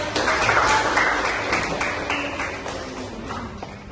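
Students in a class clap together, a brisk round of applause that is loudest at the start and slowly fades, with a few sharper taps standing out near the end.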